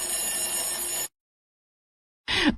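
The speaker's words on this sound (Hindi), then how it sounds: "अगली सुबह 5 बजे फिर से अलार्म बजने लगा" An alarm clock rings at five in the morning, a loud steady electric ringing that runs for about a second, cuts to silence, then returns in a short burst.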